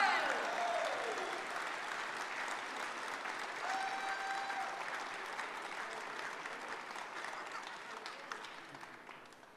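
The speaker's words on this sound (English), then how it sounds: "Let's give them a big round of applause" A large crowd applauds the champions at a crappie fishing tournament awards, dense sustained clapping that starts loud and slowly fades over several seconds, with a few brief tonal whistles or cheers mixed in.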